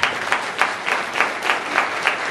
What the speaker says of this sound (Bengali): আসো যিশু জোরে জোরে করতালি দে।